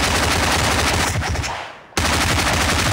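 Loud, dense automatic gunfire in the mobile battle-royale game Battlegrounds Mobile India, a continuous rapid burst that cuts off abruptly into near silence, then resumes just as loud.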